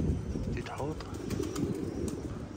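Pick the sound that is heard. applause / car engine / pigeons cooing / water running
pigeons cooing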